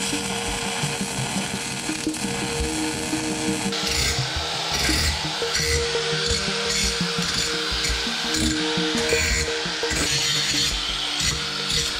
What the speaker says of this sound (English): Hit it with a grinder, not so much to cover welds, because the welds aren't bad